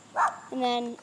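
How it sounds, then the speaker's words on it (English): A dog barks once, sharp and loud but somewhat distant, then gives a longer whining yelp, with someone speaking briefly over it. "This is a really ferocious, loud dog."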